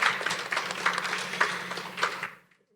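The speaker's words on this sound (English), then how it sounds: "Please join me in a round of applause to welcome our guests today" An audience applauds to welcome guests at an evening artist talk, steady clapping from a crowd that fades out after about two seconds into silence.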